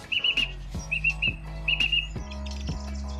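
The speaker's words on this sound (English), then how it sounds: "This song thrush right now is going ham." A song thrush sings loud and close, repeating short bright phrases in quick bursts with brief pauses between them, over a steady low background rumble.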